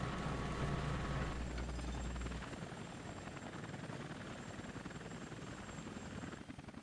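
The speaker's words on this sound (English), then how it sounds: "Switch back to the Chinook." A Chinook helicopter in the Vietnam-era combat flight game Air Conflicts Vietnam gives a continuous thudding rotor drone, fuller and louder for the first couple of seconds, then settling into a slightly thinner steady hum.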